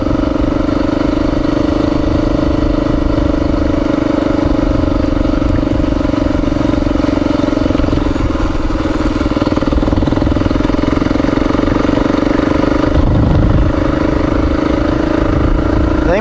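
FSR 100 motorcycle engine running while riding toward Route 66, a loud, continuous close-up drone with a steady pitch that holds throughout and a brief swell near the end.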